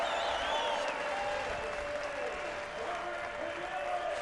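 A MotoGP crowd cheers and applauds for Cal Crutchlow on the podium at a 2016 race, a broad steady roar with a commentator's voice running over it.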